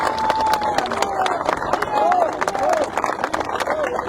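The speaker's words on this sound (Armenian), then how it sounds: "այնպես որ եկեք մի հատ ծափերով իրար ողջունենք" Outdoor campaign rally crowd claps in greeting at a prompt from the stage, a sustained patter of applause with babble and raised voices in a damp open-air setting.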